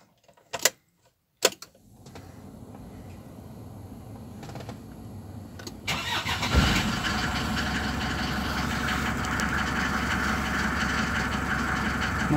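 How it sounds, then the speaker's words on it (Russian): A cold SsangYong Musso diesel engine idles steadily in a garage, a low continuous rumble that settles in after a few sharp knocks and clatters at the start. "Двигатель дизельный."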